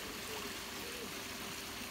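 A garden waterfall feature trickles into a large koi pond in a landscaped garden, a steady, faint broadband wash of flowing water with no breaks, heard alone for two seconds.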